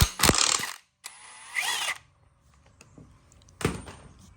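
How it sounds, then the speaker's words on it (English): A ratchet works loose the harmonic balancer bolt on an LS engine: two quick, loud bursts of clicking turns close up, a quieter pause with light tool sounds, then one more sharp burst. "And the bolt's coming off."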